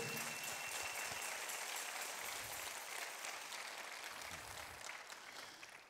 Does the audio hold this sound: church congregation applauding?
yes